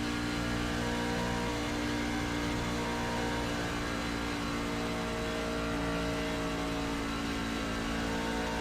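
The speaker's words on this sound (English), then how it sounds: "Really hear that engine bogged down there coming up out of 1." A NASCAR Truck Series race truck engine at Kansas roars continuously and loudly, droning and bogging down as it pulls out of a corner, with no letup across the stretch.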